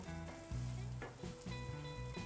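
Grated coconut dry-roasting in a pan for a Kerala-style fish curry gives a steady close sizzle with scraping stir strokes, alone without talk, while a tonal hum runs through the background.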